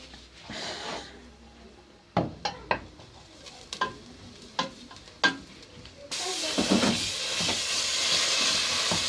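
Pasta being stirred in a pot, with sharp scraping knocks of a spoon against the pot coming in a loose series, then a steady loud sizzling hiss taking over toward the end.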